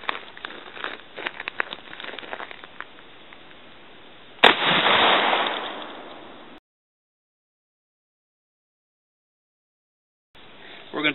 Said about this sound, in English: we're going to take the first shot from 7 yards